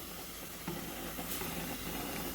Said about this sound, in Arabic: شايفين السبانخ عامله ازاي بتغلي اهي